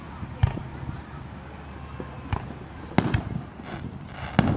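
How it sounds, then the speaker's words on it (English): Fourth of July fireworks burst at a beach in several sharp, booming reports of varying distance, with a faint crackle between them and soft crowd chatter in the background. "These fireworks are big."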